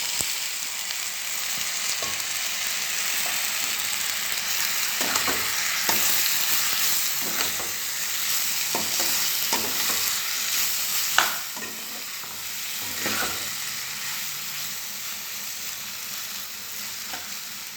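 Marinated pointed gourd (potol) frying in hot oil, a steady close sizzle with intermittent crackles and spatters, plus occasional stirring scrapes.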